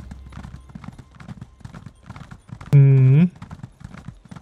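A horse ridden in The Elder Scrolls Online clops along in a steady, even rhythm of hoofbeats. A short, bright whinny rises over the trotting partway through.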